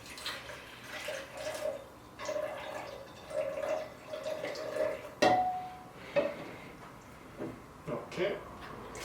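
Water poured into a measuring container to reach 263 ml for diluting 95% isopropyl alcohol, heard as intermittent soft splashes and trickles with occasional light clinks of the vessel, fairly quiet and close.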